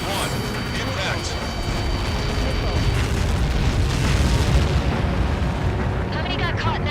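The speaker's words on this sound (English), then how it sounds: "How many got caught in that explosion?" Large explosion in the Ace Combat 7 Skies Unknown flight game, Lighthouse mission, a loud sustained rumbling blast with crackling debris that swells and fades, with radio voices talking over it.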